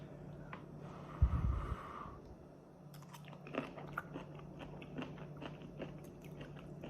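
A bite of stir fry with rice, broccoli and tofu gives a brief, close crunch followed by quiet, soft chewing in a still room.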